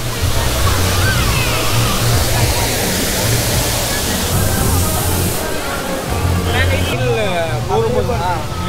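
A large waterfall at the Black Thunder water theme park roars as a loud, steady rush of falling water throughout. Voices of people rise faintly above it near the end.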